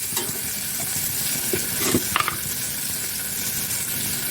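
Shahi paneer masala being stirred and fried in a pan, a steady close sizzle with scraping stir strokes and a few louder clatters near the middle, no voices.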